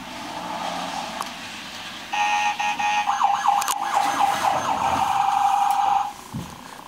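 A toy police siren wails up and down rapidly, then holds one steady electronic tone for a few seconds before cutting off.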